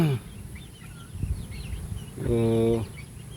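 Chickens in a coop on a chicken farm give short clucks and a longer harmonic cackling call, fairly close, with someone talking at moments and quiet farm background between.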